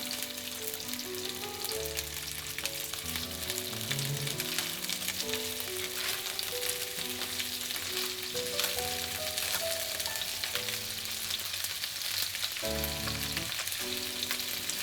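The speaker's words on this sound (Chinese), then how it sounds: "煎到金黄色，我们翻面" Chicken wings fry skin-side down in moderately hot oil in a pan, a steady close sizzle and crackle running throughout with no talk, while soft background music plays.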